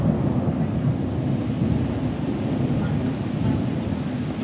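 A severe thunderstorm in Butler County roars with strong wind and heavy rain, a loud, steady rumbling wash of noise with no break.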